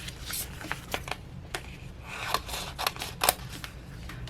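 Scissors cutting vinyl sheet for a Cricut craft, a string of crisp close snips and rustles spaced irregularly, some louder than others.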